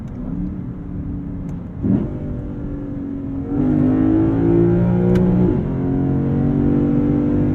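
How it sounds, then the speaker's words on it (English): A 2023 Lexus IS 500 V8 engine revs up to redline, around 6,000 to 7,300 RPM, with a rising, throaty roar, briefly dipping at gear shifts before climbing again. "Take it all the way out to redline. Relish that V8 noise."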